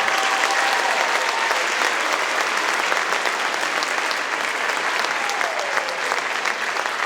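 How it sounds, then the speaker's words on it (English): A large audience gives a sustained, dense round of applause for student performers at the close of an arts festival evening, loud and even throughout with no pause. "let's have one more big round of applause for all of our student performers"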